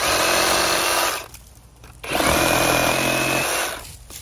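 A power saw cuts through branches of a felled tree, running loud and steady, dropping away briefly, then returning for a second pass before stopping.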